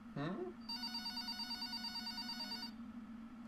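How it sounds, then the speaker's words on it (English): A telephone on a counter rings with a sustained electronic bell tone that starts after a brief rising chirp and holds steady for about two seconds, fairly clear over a low hum. "the phone on the counter rang"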